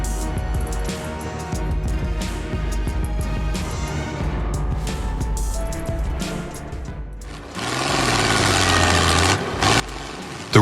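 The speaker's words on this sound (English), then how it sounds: "The roar of that engine alone could probably shake the mud off." A tractor engine roars loudly as it drives through mud, with a heavy steady rumble that swells into a louder, harsher surge near the end.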